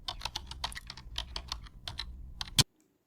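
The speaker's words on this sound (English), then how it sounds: "You have a lot of folders here, so just go ahead and type in the name." Keys clatter on a computer keyboard as a file name is typed, quick irregular clicks for about two and a half seconds ending in one louder tap, then silence.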